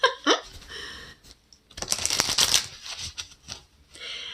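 Tarot cards shuffled by hand, a brief riffle at the start followed by a longer dense flurry of crisp card flutter and clicks, close and fairly quiet, with no talking.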